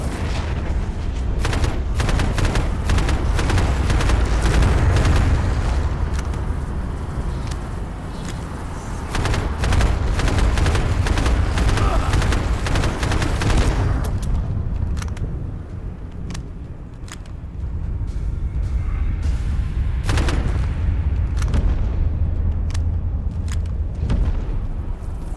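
Gunfire in the survival shooter Abiotic Factor: loud, close bursts of repeated shots in rapid clusters, pausing briefly between volleys, with no talking.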